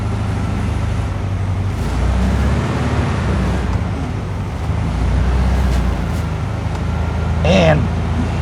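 A 1972 VW Karmann Ghia with freshly rebuilt brakes rumbles steadily while backing up, its low engine drone continuous and close, with a brief squeal near the end.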